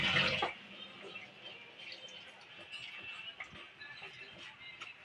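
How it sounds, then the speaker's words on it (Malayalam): Water is poured into a pot of cooking jackfruit seeds for a Kerala drumstick-leaf thoran. A short, loud splash of pouring comes at the start, then fades into quieter bubbling and small clinks. "വെള്ളം ഒഴിക്കുന്നു."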